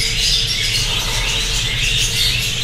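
Aggressive female pet birds squawk in harsh, dense, continuous bursts close by, loud and alone with no talking.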